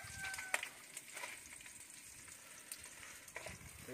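Quiet, steady sizzling of freshly caught fish frying in oil, with occasional pops and crackles.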